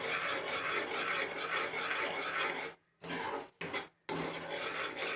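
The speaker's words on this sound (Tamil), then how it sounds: "நல்லா பபிள்ஸ் வருது. நல்லா கொஞ்சம் கிண்டினே இருங்க." Butter melting and bubbling in a pan while being stirred for channa masala gravy, a steady close rasping scrape of the spoon against the pan with brief pauses.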